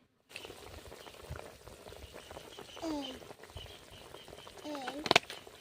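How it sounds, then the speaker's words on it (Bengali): A pot of curry bubbles and simmers steadily with soft popping, while a voice speaks faintly in the background. "তরকারিটা কিন্তু খুব ভালোভাবে ফুটছে"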